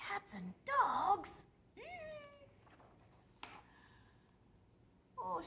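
Cats meow as a storybook sound effect: a few distinct, close meows, one long and rising, spread across the moment with short gaps of near-quiet and small noises between them.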